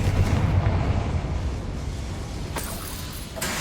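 A fire spell blasts in the Hogwarts Legacy video game during a goblin outpost raid, producing a loud, sustained booming rumble with no talk over it.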